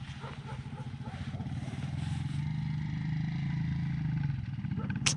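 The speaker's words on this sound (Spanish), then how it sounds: "No, sí, es otra moto o un carro." A motorcycle or car engine rumbles nearby with a low, pulsing drone that swells and holds before fading at the end, heard outdoors beneath people talking.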